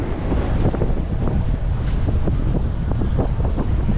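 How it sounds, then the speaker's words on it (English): Strong gusts buffet the microphone outdoors in the Castro area of San Francisco, producing a constant low, rumbling roar that fills the whole stretch with no voices. "Oh, it's windy over here."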